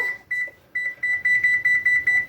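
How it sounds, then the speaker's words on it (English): A kitchen timer being set while baking pumpkin treats, emitting a few short setup beeps followed by a steady run of loud, evenly spaced beeps, close and clear with no talking. "I'm gonna go ahead and set a timer"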